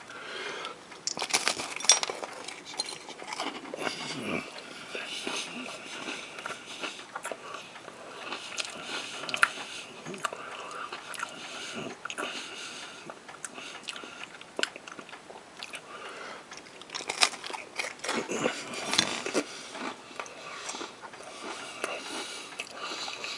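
Crunchy biting and chewing of MRE vegetable crackers, some spread with peanut butter, close to the mic with repeated crisp crunches over about twenty seconds and no talking.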